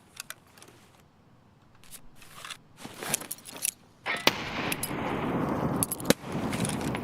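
A grenade goes off in a video game shooter: a sudden loud blast about midway through, followed by a sustained roar of debris and noise, with scattered clicks and clatter before it.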